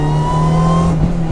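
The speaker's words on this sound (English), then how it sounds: "I can't get enough of that supercharger whine" Supercharged Honda RSX Type S A-Spec engine heard from inside the car, a loud steady drone with a high supercharger whine running over it, the pitch holding level before briefly dropping away near the end.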